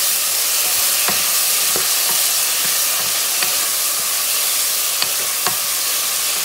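A pot of grated-tomato sauce simmers with a constant sizzling hiss while a utensil stirs it, producing several faint, irregular scrapes and clicks against the pot; no voices.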